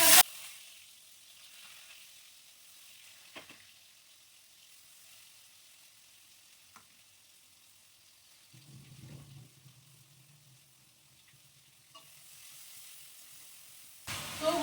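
Onion-garlic paste and cumin seeds fry in oil in a wok, giving a faint, steady sizzling hiss with a brief low stirring rumble partway through and louder clatter at the start and end.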